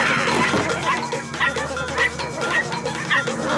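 Small Chihuahuas yap and bark in quick, repeated bursts, fairly close and loud, with whimpering yips and some background commotion.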